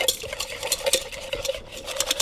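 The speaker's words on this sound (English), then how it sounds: "So just give that a little whisk up" Quark and lemon juice whisked in a bowl, a quick steady run of scraping, clicking strokes close by with no talk.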